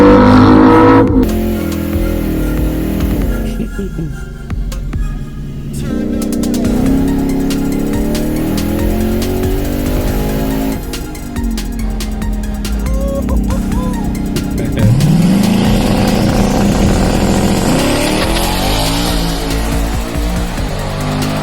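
Drag car making a hard 8-second quarter-mile run at about 157 mph: loud, sustained engine roar with rising and falling pitch sweeps as it accelerates through gears, then winds down, heard from the track with crowd noise.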